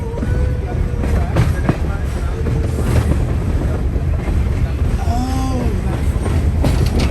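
Steady loud rumble of a Tennessee Valley Railroad historic passenger train rolling along rails, with rhythmic clicks, wind buffeting and brief whistling squeals from the wheels.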